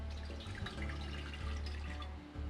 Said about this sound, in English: And I'm going to start with 2 cups of water.